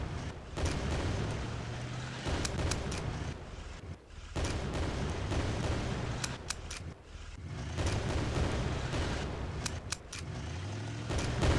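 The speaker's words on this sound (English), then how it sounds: "So I'm just going to shoot the tank." Dense, continuous video-game gunfire strikes a tank, with repeated sharp impact cracks over a heavy rumbling battle din lasting throughout.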